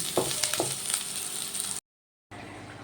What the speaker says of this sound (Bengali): একটু হালকাভাবে এটা ভাজা হবে